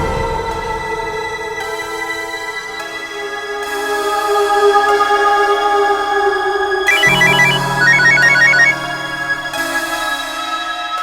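A phone ringtone plays as a steady, loud electronic melody with repeating tonal patterns, continuing for several seconds with no talk over it.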